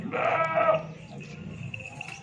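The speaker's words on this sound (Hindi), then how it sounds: "आज आपको बड़ी बड़ी बकरियां दिखा रहा हूँ" Goats bleating at a goat farm: one loud, close bleat in the first second, then quieter animal noise and farm background.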